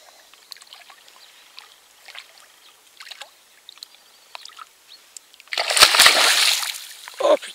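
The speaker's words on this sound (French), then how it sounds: "on a tout éclaboussé" Quiet scattered knocks and drips give way to a loud, sudden splash of water up close, with sloshing trailing off afterward.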